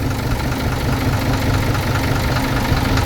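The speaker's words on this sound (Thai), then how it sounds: "ตัวนี้เป็นเครื่อง JO 7E นะคะ210แรง คอมเรลเทอร์โบ อันนี้สตาร์ทเครื่องอยู่นะคะ เสียงเครื่องเงียบ มาก ๆ นะคะ" A truck's JO7E 210 hp common-rail turbo engine idles in a steady, even rumble with a slight knock, loud and close and unbroken throughout.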